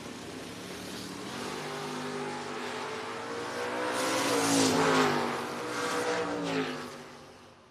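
A Camaro and a 2007 Mustang drag race car launch side by side at a drag strip, engines roaring as they accelerate hard, building to a loud peak mid-run before the sound recedes down the track.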